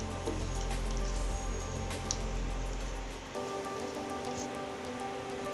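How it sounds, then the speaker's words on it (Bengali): Cracked white cardamom pods and cinnamon sticks fry in hot oil with a steady, close, crackling sizzle like light rain, easing slightly partway through, with no voices. "এখন এই মশলাগুলো গরম তেলে ভালোভাবে 2 মিনিট ফোড়ন তুলে নেবেন।"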